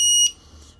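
Buzzer on a Pavo20 Pro FPV drone gives a short, loud, piercing electronic beep that cuts off abruptly after a quarter second, leaving near silence.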